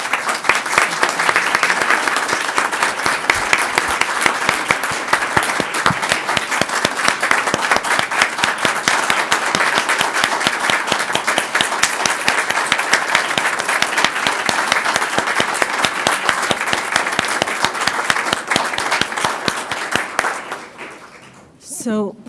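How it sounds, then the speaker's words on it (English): Sustained audience applause honoring a retiring doctor at a board meeting, steady dense clapping from a room of people lasting about twenty seconds before tapering off with a brief voice at the end. "if everyone would join me in a round of applause for Dr."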